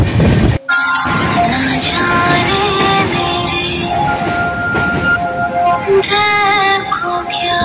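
An Indian Railways passenger train on the Howrah to Mumbai route rolls along at speed, a loud steady rumble with metallic squeals, rattles and clinks from the carriage.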